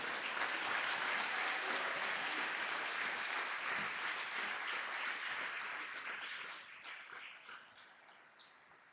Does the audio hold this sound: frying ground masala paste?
no